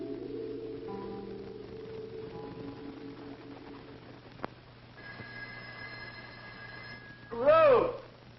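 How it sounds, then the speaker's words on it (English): A telephone bell in an old 1962 film scene rings in a warbling burst near the end, following quiet tonal music with a single sharp click partway through. "Ruth, don't you hear the phone?"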